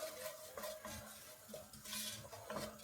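A spoon stirs flour into a bubbling chicken fricassee to build a roux, scraping the pot in a steady rhythm of soft clinks and knocks over a faint sizzle, close by and with no talking.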